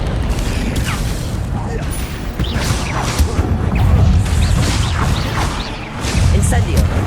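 Expelliarmus spell effects in Hogwarts Legacy burst out as repeated cracks and booming impacts in dense, loud game combat, with a voice calling out over the clash.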